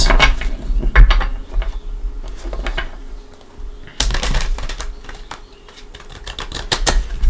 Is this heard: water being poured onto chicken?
no